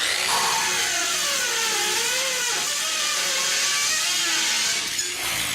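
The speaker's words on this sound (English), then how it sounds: "Watch how easily it cuts through this big piece of steel." DualTools CS450 power tool cutting through a thick piece of steel, a loud, steady high-pitched whine with a grinding edge that holds for several seconds and briefly eases near the end.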